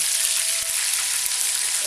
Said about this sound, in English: first we are going to fry the prawns